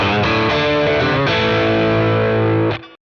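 Heavily overdriven electric guitar chords through a Boss Katana 100 1x12" combo amp's overdrive channel ring out loud and gritty, sustaining for a few seconds before cutting off abruptly.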